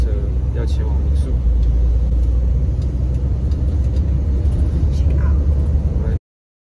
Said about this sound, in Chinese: 那我们现在搭民宿的接驳车，要前往民宿。